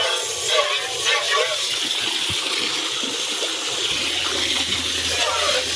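Water pours steadily into a container for catfish, a continuous splashing rush, fairly close, with a few small knocks partway through.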